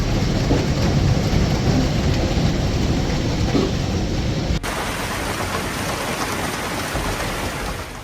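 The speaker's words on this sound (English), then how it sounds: "Cleveland, Ohio was hit by a severe hailstorm on April 15th" A severe hailstorm pounds Cleveland, Ohio, a dense, loud, unbroken roar of hail striking surfaces that shifts abruptly in tone partway through.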